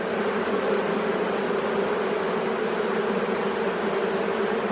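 Honeybees at a hive fan and buzz to call the colony back, making a continuous, even drone heard close and unbroken throughout, with no one speaking.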